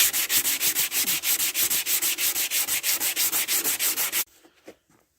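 Body filler on a car panel being block-sanded with steady, rhythmic back-and-forth strokes, loud and close for about four seconds before stopping, followed by a few faint handling knocks.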